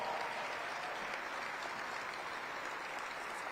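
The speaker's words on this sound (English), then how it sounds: "Let's give them a round of applause." A crowd at a city State of the City address in Aurora gives a round of applause, steady dense clapping at an even level throughout with no talk over it.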